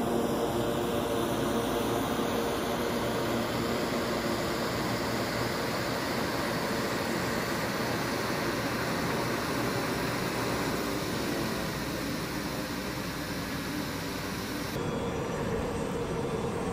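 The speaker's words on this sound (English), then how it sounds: "So first we hopped in his Amphib Cessna and hopped over to a nearby lake." Cessna amphibious floatplane in flight, heard from inside the cabin as a loud, steady propeller and engine drone that runs unbroken throughout.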